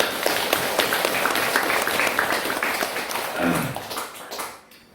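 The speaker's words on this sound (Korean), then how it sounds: "박수 한번 쳐주십시오" An audience claps steadily in a dense, lively wash of applause at a Buddhist dharma talk in a Korean temple. The clapping thins and fades out near the end.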